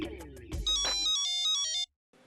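An electronic phone ringtone chimes a bright melodic pattern of high tones, loud and close, cutting off abruptly after about a second.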